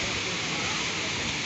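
A waterfall in Kumrat Valley, a continuous roaring rush of falling water, loud and close, with no break across the moment.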